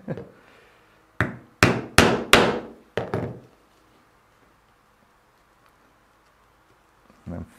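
A stitching chisel is hammered through leather in five sharp, loud strikes in quick succession, then quiet, with a faint knock near the end.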